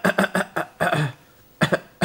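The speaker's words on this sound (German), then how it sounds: "Und sie hat dauernd Husten." A baby coughs in a rapid series of short, bursty coughs, then a brief pause and two more coughs, close and clear with no talking.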